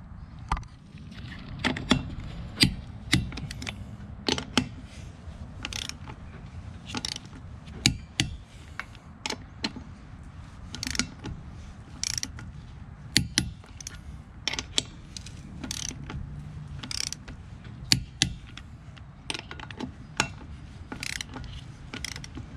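Ratchet clicks and sharp metallic ticks repeat in irregular bursts as lug nuts are tightened to torque on a dual-axle Trailstar trailer after a brake pad change, close and steady, with low mechanical rumble underneath.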